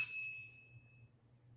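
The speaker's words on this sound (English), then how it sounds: "So you hear the 3 dings right after, exactly again to her voice, ding, ding, ding." A hand bell used during a paranormal investigation gives one bright, ringing ding that fades out over about a second, leaving a faint low hum in a quiet room.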